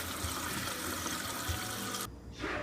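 Kitchen tap running steadily while green beans are prepared for a stir fry, a broad continuous water hiss that cuts off abruptly near the end, then resumes briefly.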